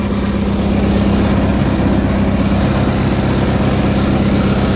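A Cub Cadet 582 garden tractor's engine running close by: a loud, steady, throbbing drone with no change in pace and no speech over it.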